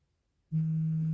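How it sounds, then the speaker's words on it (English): An incoming call on a phone sets off a loud, steady electronic ring tone that starts abruptly after near silence and holds unbroken to the end. "every time I go live, I get a phone call"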